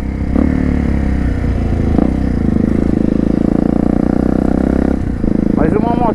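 Honda Falcon NX 400 motorcycle with a three-inch stainless steel exhaust, heard close while riding, its engine droning continuously and rising and falling through gear changes, with someone speaking over it near the end.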